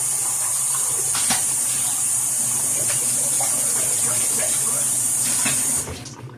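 Coffee maker run without water, a steady close hiss with faint gurgling and sputtering pops underneath, going on for several seconds before tailing off at the end.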